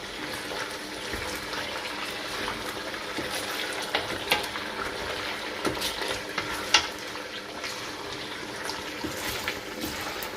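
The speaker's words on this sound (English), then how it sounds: "I'll be adding in this meat into the pot for it to fry a little bit" Steady sizzling of meat frying in a pot for Cameroonian kondre, with occasional stirring clinks and scrapes, close up and continuous.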